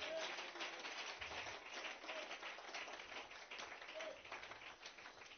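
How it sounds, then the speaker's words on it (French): A church audience applauds in a continuous wash of many hands clapping at moderate distance. A voice speaks faintly underneath. "Donnez-lui une acclamation, Dieu bénisse."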